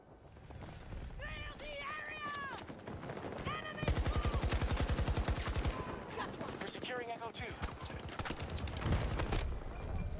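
Rapid automatic gunfire from the video game Battlefield 2042, long sustained bursts with dense repeated cracks, loud and close, mixed with other in-game sounds and someone talking over parts of it.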